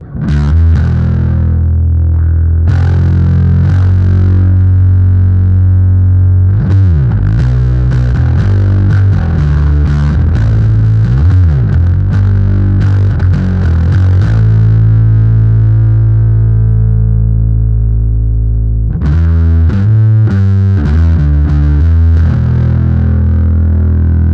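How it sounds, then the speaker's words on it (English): Thick, fuzzy distorted bass guitar through a Big Muff fuzz pedal playing a riff of sustained and repeated notes, loud and saturated throughout, with no voices. "the Big Muff sounds like this"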